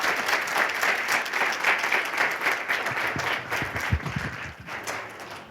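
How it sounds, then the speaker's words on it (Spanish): Audience applause at a conference session, steady moderate clapping from a roomful of people throughout, with a few louder individual claps standing out near the end. "Así que les pido un aplauso"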